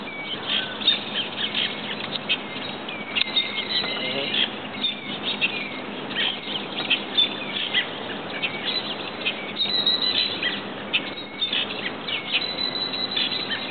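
Birds squawk and chirp in a steady, busy stream of calls, close and fairly loud, with occasional flapping or rustling underneath.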